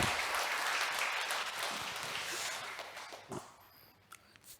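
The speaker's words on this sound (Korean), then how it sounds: "우리 더 큰 영광의 박수 하나님께 드리겠습니다." Congregation in a Sunday worship service at a Korean church applauding, a dense sustained wash of clapping that gradually thins and fades, leaving a few scattered claps at the end.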